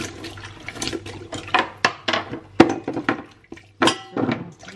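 Water is poured over strawberries and blueberries in a bowl to soak them, making an uneven run of splashes and soft knocks close by, with no voices.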